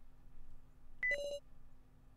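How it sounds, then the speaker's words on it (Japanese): Phone dialing tones in Kimi ga Shine: after a quiet, humming stretch, one short high beep is followed by a brief lower tone, both clean and electronic, then silence returns. "ジョーは電話をかけ始めた。"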